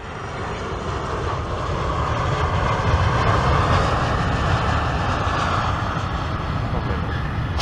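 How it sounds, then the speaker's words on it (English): A Southwest airliner comes in for a very fast, hot landing, its engine roar swelling steadily and staying loud and broad throughout. "this time it's just a very extremely fast landing of a Southwest"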